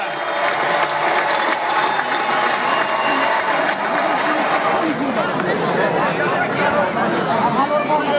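A crowd at a Navruz festival wrestling event in a village claps and cheers for several seconds, a loud, dense wash of applause and chatter that swells toward the end.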